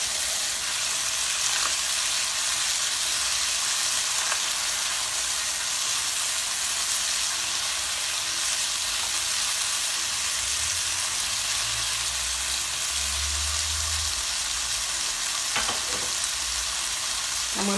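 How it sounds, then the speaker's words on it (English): Onions frying in a pan for a frittata give a steady, loud sizzle that runs unbroken throughout, with a few faint scrapes and stirring clicks over it and no talking. "I'm going to get in my onions for flavor"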